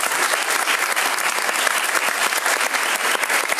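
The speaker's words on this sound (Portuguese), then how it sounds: "uma salva de palmas bem forte para vocês" Loud, dense applause from a crowd at an open political plenary session, steady and sustained throughout with no pauses.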